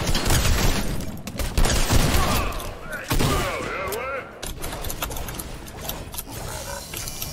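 Bursts of gunfire in a Fortnite-style battle royale video game, rapid shots and heavy thumps mixed with game effects, loud and dense at first, then thinner and more scattered.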